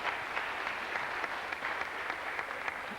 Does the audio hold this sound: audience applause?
yes